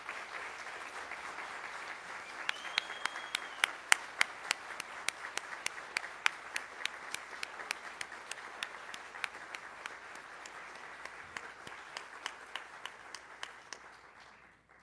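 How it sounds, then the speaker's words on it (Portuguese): Audience applause fills a solemn municipal council session, a steady dense patter of many hands clapping that carries on for the whole stretch before tapering off, moderately loud in a large hall, with no talk over it. "Palmas, por favor."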